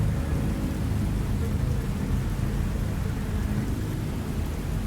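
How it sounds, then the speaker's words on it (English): Rain falls with rumbling thunder in the puzzle game Manifold Garden, a dense, steady, loud wash of downpour and low rumble throughout, with no voice over it. "the rain starts"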